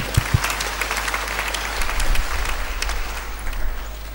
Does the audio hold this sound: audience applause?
yes